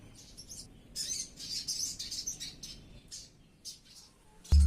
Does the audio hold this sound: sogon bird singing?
yes